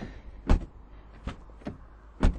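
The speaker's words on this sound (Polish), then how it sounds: "Dźwięk otwierania i zamykania drzwi." Car door opening and closing on a modern car, with a few separate thuds and clicks spaced apart, moderately close and with no talking.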